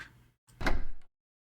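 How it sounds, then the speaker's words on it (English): A door closing in the horror game Halfmoon: a soft movement followed by a single solid, close thud with a brief rattle, then silence. "And close the door."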